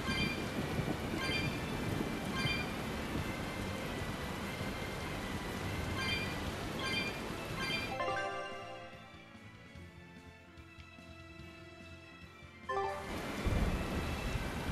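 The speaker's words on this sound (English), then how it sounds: "A storm." A thunderstorm with rain in the Tales of Berseria video game: dense, steady rainfall roars for several seconds, drops away to a quiet lull, then surges back strongly near the end.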